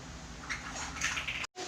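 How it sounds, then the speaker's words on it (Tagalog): Steady hissing, bubbling water boiling in a pot, with a dense wash of noise, fairly close, briefly cutting to silence near the end. "Ayan po, kumukulo na."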